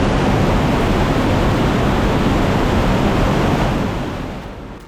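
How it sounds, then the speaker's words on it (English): Water gushes, surges and falls from every direction in a confined rocky space after overnight rain, a loud, deafening and continuous roar with no break, easing off slightly at the very end. "water gushes, surges and falls from all directions, making a deafening noise in these confined spaces"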